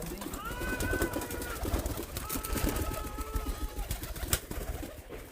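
Giribaj pigeons in Rajshahi cooing in a noisy loft, several drawn-out coos rising over a dense background of flapping and rustling, moderately close, with no clear speech.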